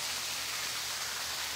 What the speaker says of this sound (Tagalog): Ulan na.